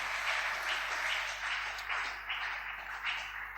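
A church congregation applauding the Lord, with steady dense clapping from many hands throughout, heard as a continuous wash of sound at a moderate distance.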